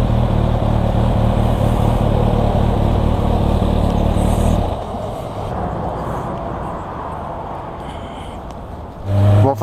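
A 2016 Kawasaki H2 motorcycle accelerates, its engine a loud, sustained roar that later drops into a lower, steadier drone with wind noise, followed by a brief surge at the end.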